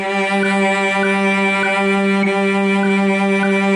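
A cello holds one steady bowed note with a gentle, regular vibrato wavering through it, sustained and close, with no other sounds.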